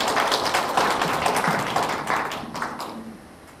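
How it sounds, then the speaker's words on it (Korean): An audience at a hospital health lecture claps to welcome a neurology professor, a dense round of applause that gradually thins and fades toward the end. "큰 박수로 환영 부탁드립니다"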